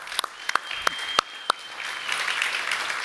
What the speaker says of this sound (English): Please make a hand of applause for the 5 presenter.